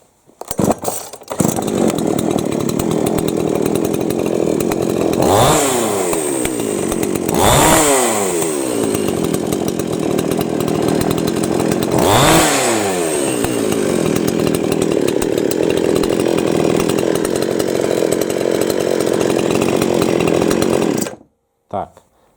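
A repaired Chinese petrol chainsaw runs outdoors at night, a loud continuous buzzing two-stroke drone with three sharp throttle revs, close by and sustained until it cuts off near the end.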